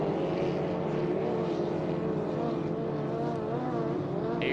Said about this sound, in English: you can hear one of our Grand Prix hydros getting warmed up